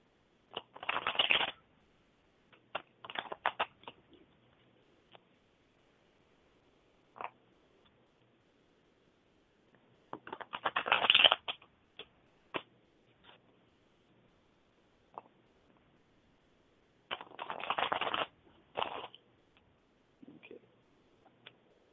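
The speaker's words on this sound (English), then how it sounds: "Let me shuffle the cards a little bit." A deck of tarot cards is shuffled in several short, crisp bursts of riffling and flicking, separated by quiet pauses with faint scattered ticks.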